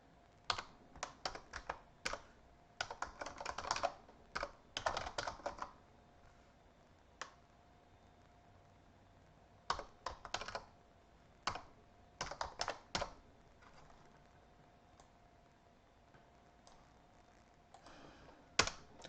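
Bursts of quick keystrokes on a computer keyboard as a sudo nano command is entered in a network lab, with short pauses between clusters of clicks and no talking.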